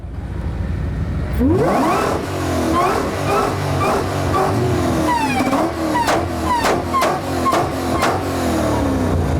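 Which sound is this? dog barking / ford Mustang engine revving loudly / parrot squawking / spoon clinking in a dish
ford Mustang engine revving loudly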